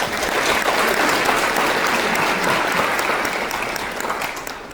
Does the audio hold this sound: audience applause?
yes